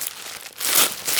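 Protective paper wrapping crinkles and rustles loudly as it is pulled off a plush flat-fish toy, with bursts of crackling swelling in the second half.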